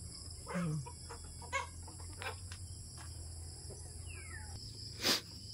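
A few chicken clucks sound at intervals over a constant high insect drone on a Philippine farm in the morning, with a sharp click near the end.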